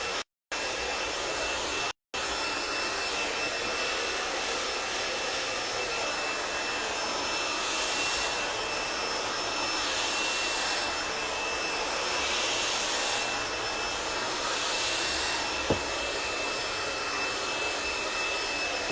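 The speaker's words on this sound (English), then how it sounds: "I'm gonna take my multi-bristle brush, my blow dryer" A handheld blow dryer drying hair during a salon blowout with a multi-bristle brush, a loud steady whooshing hum close by that cuts out briefly twice near the start and then runs continuously.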